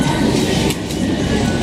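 A train rumbles steadily close by, a dense low roar with faint rattling of the cars, continuous and loud throughout.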